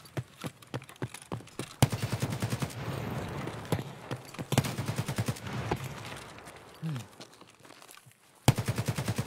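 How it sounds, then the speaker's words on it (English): Rapid automatic gunfire in a shooter video game set inside a mall, loud close bursts of rattling shots in several sustained strings separated by brief pauses, with faint voices talking. "I was giving you cover fire"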